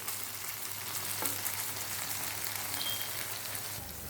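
Chicken pieces spread across a tawa fry over a low flame in a soft, steady sizzle that holds evenly throughout, with no voices.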